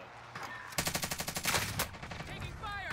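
Rapid burst of automatic gunfire in a Call of Duty: Warzone squads match, a dense string of close, sharp shots lasting about a second, trailing into quieter game noise.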